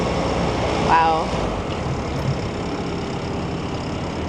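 A truck engine drones steadily, nearby and fairly loud, while its wheels spin in a load of delivered sand. A short exclaimed word is heard early on.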